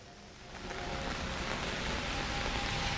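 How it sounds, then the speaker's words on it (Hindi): Steady rain falls outdoors in Jaipur during a winter shower, an even hiss that swells slightly after the first half-second and then holds constant, with no voices. "मावठ है, बारिश भी हो रही है।"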